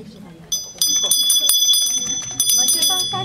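Decorative bells ring repeatedly at a school last-bell ceremony, bright tinkling strokes starting about half a second in and continuing throughout, close and fairly loud over crowd noise and talk.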